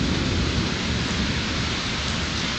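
A lightning storm brings heavy, continuous rain and rolling thunder, heard as a dense, unbroken roar that stays loud and close throughout, with no voices.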